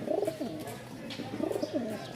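Soft, repeated coos from tumbler pigeons in two short bursts, close by and fairly quiet, with a faint background hum.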